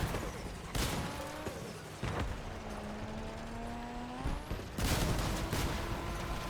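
Shotgun blasts boom in the vehicle combat game Crossout, a few heavy bursts spaced seconds apart over whining engines and rumbling machinery.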